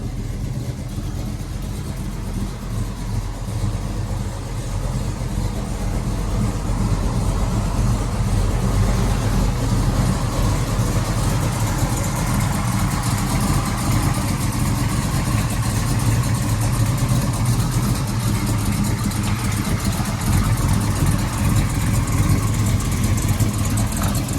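A 1971 Chevelle with a 502 big block V8 idles nearby, a steady, loud low rumble that holds throughout with slight rises in engine pitch and no voices.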